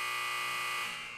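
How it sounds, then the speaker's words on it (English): A loud, steady electronic buzzer drones continuously with a bright, harsh tone and fades slightly at the end, heard alone without any talk. "what a buzzer."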